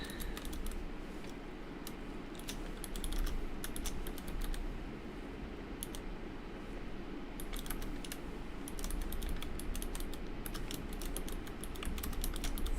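Typing on a computer keyboard, bursts of quick, crisp key clicks in uneven runs with short pauses, close and clear over a low background hum.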